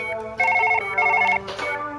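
A telephone rings inside the Surgeon Simulator video game with two loud, close trilling bursts of bell tones, followed by a brief noisy clatter, with no talking over it.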